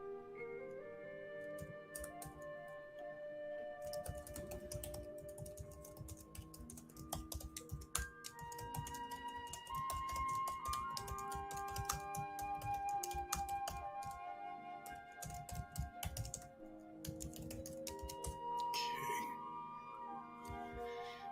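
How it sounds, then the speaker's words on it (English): Fingers typing on a computer keyboard at a perfume livestream, a busy stream of close, quiet clicking keystrokes with short pauses, plus a few ringing tones in the background. "I'm typing here"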